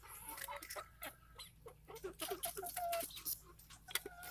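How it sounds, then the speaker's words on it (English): Red Ranger broiler flock with roosters and cockerels, heard up close as repeated clucks and short calls in an irregular patter, with a louder rooster-like call standing out near the end. "Oh, you hear that? That's one of my roosters."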